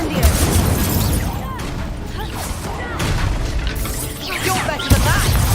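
Fiery spell blasts and magical combat bursts from the Hogwarts Legacy video game, including an Incendio fire attack, arrive as dense, continuous booms and crackles with a sharp burst near the end, while voices shout over the action.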